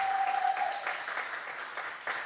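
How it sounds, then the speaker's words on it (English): A crowd at a leadership tour event applauds steadily for a man just introduced. The clapping is a dense, even wash of many hands that holds for a couple of seconds. "Give this man a round of applause."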